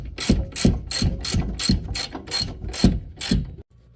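A ratchet wrench loosens 15 mm bolts on a Ford Bronco during a lift install, about nine sharp evenly spaced clicking pulls close up, then a brief pause at the end.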